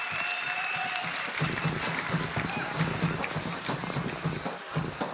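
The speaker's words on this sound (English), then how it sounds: "I can hear that the crowd are actually applauding this man's work." A crowd at a PUBG Mobile esports finals event claps continuously, a dense patter of hands with some voices mixed in, fairly distant and steady throughout.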